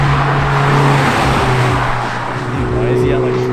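A car engine holds at high revs nearby, a loud, steady drone with a slight pulsing rise and fall and some traffic noise behind it. Someone talks over the sound.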